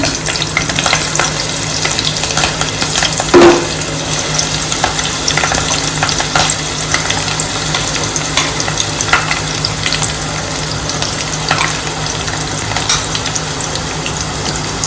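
Ground masala paste for a pomfret fish curry fries in a pan with steady sizzling and crackling, with a few stirring scrapes, close up and with no voices.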